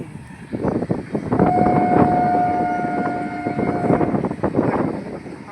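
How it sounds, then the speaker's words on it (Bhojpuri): A train approaching, its steady horn blaring for a few seconds over a continuous loud rolling rumble, close by with no talking. "देखा भाई लोगन ट्रेन आता देखा ट्रेन दिखा दो।"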